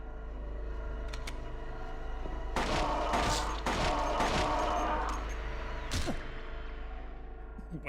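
A rapid series of sharp gunshots from emptying a magazine in Silent Hill 2 cracks out in a loud cluster midway, with a final shot after a pause over a low steady game hum.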